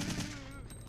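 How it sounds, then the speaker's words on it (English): A submachine gun fires on full auto in the video game Resident Evil 3, a brief rapid burst of shots that is faint and partly under talk. "I believe the SMG is full auto,"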